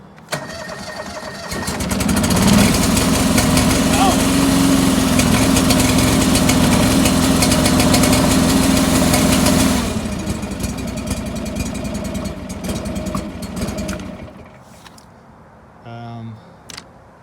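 A John Deere 445 lawn tractor engine catches and runs with a loud, steady roar for several seconds, settles to a lower idle, then shuts off.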